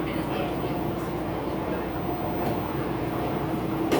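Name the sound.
Chicago Brown Line elevated train moving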